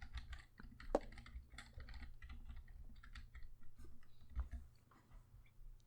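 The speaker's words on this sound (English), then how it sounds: "I hear people typing" Several people typing on computer keyboards, a quiet, irregular clatter of key taps with a few sharper clicks over a steady low background hum.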